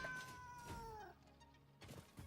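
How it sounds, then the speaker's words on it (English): A cat meows in a long, drawn-out cry in the video game Satisfactory, followed by a shorter yowl, faint and alone with no talking. "Okay, I kind of feel bad whacking the cats"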